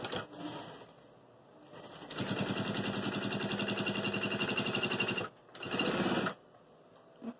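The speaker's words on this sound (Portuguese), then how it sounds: "Vou costurar aqui, ó." A sewing machine stitches through a fabric document folder with a pocket. After a quiet start, it runs a steady, close burst of rapid stitching for about three seconds, stops briefly, then gives a second short burst.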